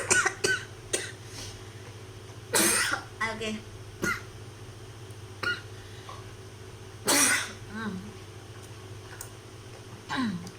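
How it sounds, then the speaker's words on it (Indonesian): A woman coughs in two harsh bursts with a few smaller throat sounds, close to the microphone, and briefly speaks between them. "Tiba-tiba bikin batuk."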